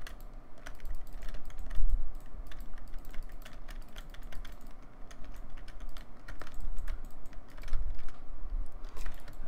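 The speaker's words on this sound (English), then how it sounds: "Lots of clicking." Rapid mouse clicking while destroying sand in Minecraft, a dense run of sharp, close clicks with small bursts and pauses, steady over several seconds without talk.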